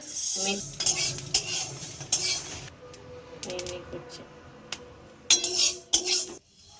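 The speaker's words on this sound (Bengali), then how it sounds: "সব আমগুলোকে এখন আস্তে আস্তে সুন্দর করে ভেজে নেওয়া হবে আর এখানে দেখতে পাচ্ছ সাদা কড়াই নিয়ে নিয়েছি" Mango pieces are dry-roasted in a white wok without any oil, with a utensil stirring and clinking against the pan. The scrapes come in irregular bursts, moderately close, and a voice speaks at times.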